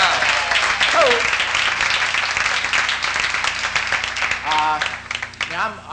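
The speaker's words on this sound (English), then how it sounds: "So give them a round of applause." Crowd applause for a band at a 1983 club show, a steady dense wash of clapping that fills the clip, with voices and a short musical swell mixed underneath.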